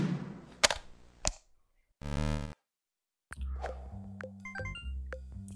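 Retro Pico-8 shoot 'em up explosions, a handful of sharp chiptune bursts and pops separated by silent gaps, with a short buzzy tone and a quick run of bright blips near the end.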